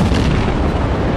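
Warship main guns firing in World of Warships, a single dense, loud boom that fills the whole clip with sustained low rumble and no talk.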